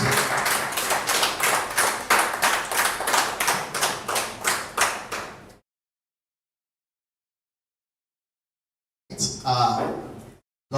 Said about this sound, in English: Please a big round of applause for him.